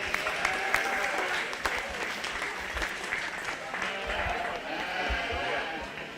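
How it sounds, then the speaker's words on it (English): Crowd applause for winners at a 4-H/FFA sheep and little lambs show, sustained clapping from many hands at moderate distance with voices in the background. "Let's give these guys a round of applause for the Homebreds."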